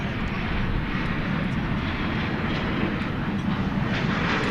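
An airliner arriving at Dallas Fort Worth airport from Orlando at night, heard as a steady, fairly distant engine roar with rumbling low end, continuous and unbroken throughout.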